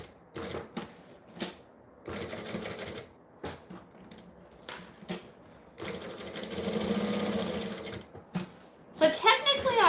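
Sewing machine stitching at stitch length 4, bursts of rapid mechanical whirring and needle clatter starting and stopping, with a longer run near the end and a person talking between the runs.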